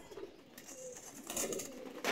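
Pigeons, including pied and golden-marked birds, coo softly in a loft or coop, a low murmuring coo repeating under a background hum, with a brief rise in activity near the end.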